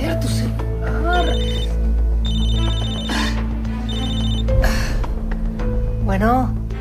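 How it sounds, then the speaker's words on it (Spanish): A mobile phone rings in a home, its electronic ringtone repeating in short bursts over several cycles while people talk and exclaim around it. "Javier, tu celular."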